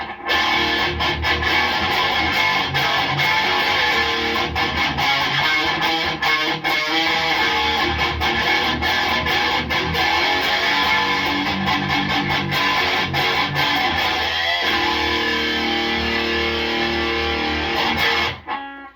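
A heavily distorted electric guitar with active pickups, played through a modded Marshall DSL 20 amp without a boost, plays loud, dense chords and riffs continuously, ending abruptly after a sustained note.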